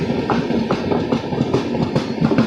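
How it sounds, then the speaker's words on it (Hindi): Train passing through a railway station on a diverted route from Bengal to Punjab, a steady rumble with rhythmic wheel clatter across the rails, close and fairly loud throughout with no talk. "डाइवर्टेड ट्रेन है ये भी।"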